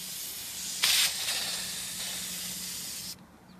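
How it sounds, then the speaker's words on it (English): A steady hiss of an aerosol can spraying, starting with a sharper burst and continuing evenly for a few seconds before cutting off. "I just went and got some spray paint"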